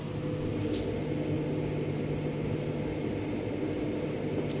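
A microwave oven runs with a steel spoon in a glass of water, giving a steady, loud electrical hum with a pair of faint clicks and no sparking crackle.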